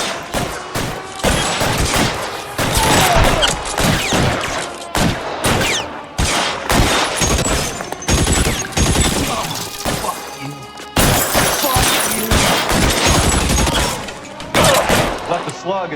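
Rapid gunfire rings out throughout a shootout in the video game L.A. Noire, with dense, overlapping volleys of shots and crashes that run almost without a break. Music and game sounds play underneath.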